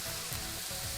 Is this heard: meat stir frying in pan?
yes